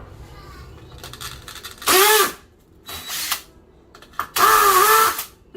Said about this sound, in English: I'm going to use my tile bit to get into the tile